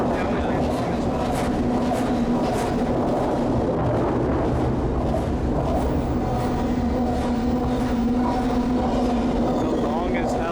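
A long train rumbling steadily past up close, with continuous rolling and clattering noise throughout and a voice talking over it.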